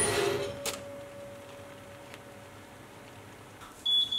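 An oven timer beeps while beetroot brownies bake, a short, high electronic beep arriving only at the very end over a steady hum of oven noise.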